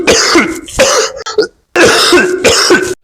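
Harsh, close coughs and throat clearing come in two clusters of repeated bursts, separated by a short silent gap.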